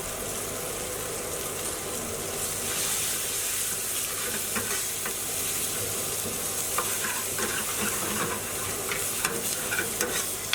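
Spices, salt and chili powder fry hard in a hot curry pan, giving a dense, steady sizzle with scattered crackles and faint scraping, close up and without talk.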